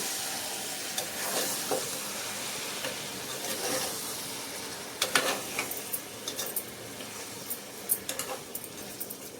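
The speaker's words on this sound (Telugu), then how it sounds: "ఇప్పుడు మళ్ళీ ఒక్కసారి బాగా కలిపేద్దాము" Tomato and chili sizzle in a pan while a utensil stirs them, a steady hiss of frying broken by scattered clinks and scrapes of the spoon against the pan.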